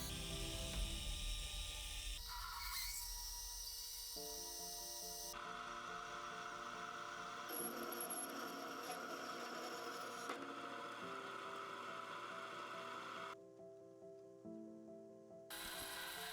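A metal lathe cuts down a metal sleeve for a prop vial, giving a quiet, steady mechanical whir with shifting tonal hum and grinding texture as the cut changes, close and without talk.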